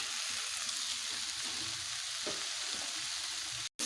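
Fried potatoes and pointed gourd stir-fried in a pan, a steady hissing sizzle with a few faint stirring scrapes, quiet, ending in a brief cut and a louder burst.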